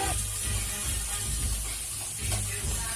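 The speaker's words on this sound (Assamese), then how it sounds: "মাংসখিনি অলপ ভাজ কৰাৰ পাছত পিঁয়াজখিনি দি দিওঁ।" Meat and onions fry together in a pan, giving a steady, close sizzling hiss that continues without a break, with faint low kitchen rumble underneath.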